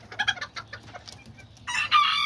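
Backyard hens give close, irregular clucks that build into a loud, sustained squawking call near the end, with no talking.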